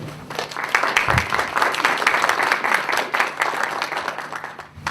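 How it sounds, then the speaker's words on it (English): Audience at a Toastmasters club open house giving a round of applause, many hands clapping in a busy, fairly close patter that stays lively throughout with slight swells and dips. "Please, a round of applause for Leon Kolenko."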